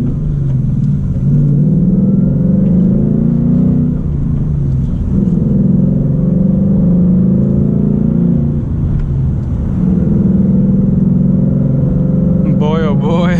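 A manual 2019 Ford Mustang GT's engine rumbles and revs hard, pitch climbing and dropping as it shifts up through gears, loud and close, with speech mixed in.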